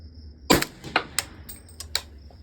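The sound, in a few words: gunshot from rifle firing Atomic 7.62x39mm 220 grain round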